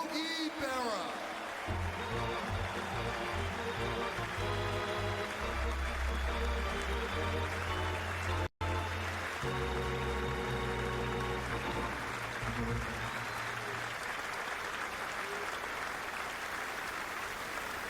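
A stadium crowd applauds at Yankee Old Timers Day, a broad distant wash of clapping and cheering under a booming announcer's voice and sustained organ tones, briefly cut by a dropout midway.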